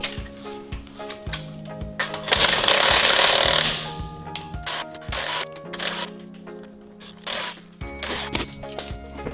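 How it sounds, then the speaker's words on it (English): An impact wrench rattling lug nuts off a car wheel, a loud buzzing hammering burst followed by several shorter rattling bursts and clinks of loose nuts, close and clear in a garage with no talk. "I am using an impact just to rattle these lug nuts off"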